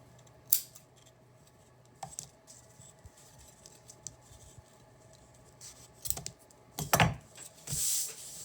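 Scissors cutting jute cord for a tassel: a few sharp, close snips spaced seconds apart over a quiet background, with a cluster of crisp cuts and rustling near the end.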